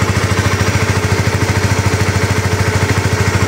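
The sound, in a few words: sport motorcycle engine running after starting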